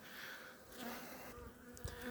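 Honeybees buzz steadily at a hive while a beekeeper insulates the colonies, a close, continuous insect drone with a few brief sharper bursts.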